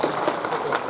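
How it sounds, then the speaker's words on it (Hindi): Brief, steady applause from a gathered audience at a paragliding closing ceremony in Khajjiar, a short burst of many hands clapping at moderate volume. "जोरदार ताली"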